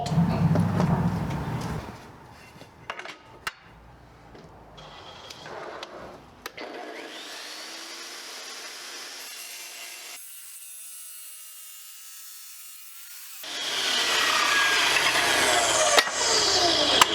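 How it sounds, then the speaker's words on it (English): An IQ tile saw cuts tile while a shop vac runs, both powered from a portable power station, giving a harsh grinding, rasping roar that drops out, gives way to motor whine, then surges back loud near the end. "we will attempt to run 2 motors on the IQ saw, cut tile, simultaneously running the shop vac"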